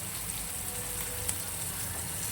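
Chopped green chillies hit hot oil with onions already in the pan, making a soft, continuous crackling hiss much like light rain, steady throughout with no voices.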